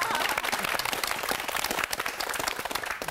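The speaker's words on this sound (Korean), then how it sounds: "이럴 때 박수 안 치면 양심 없는" A lecture audience breaks into steady, dense applause, with many hands clapping together in a continuous, even patter at moderate volume throughout and no voices heard.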